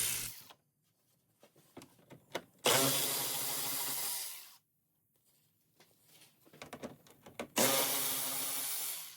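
A power tool spins out 10mm bolts from the underside of a 2004-2009 Toyota Prius bumper cover, two loud sustained whirring bursts with clicks and handling noises in between, no voices.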